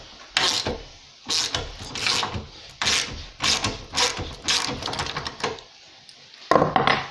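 Car suspension silent-block bushing being forced out with a makeshift press, producing repeated loud creaking, ratcheting bursts and grinding of metal and rubber, in irregular clustered strokes up close with short pauses between.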